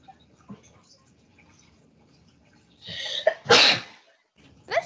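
A single loud sneeze bursts out close during an online social studies class, preceded by a quick breath and followed by quiet room noise.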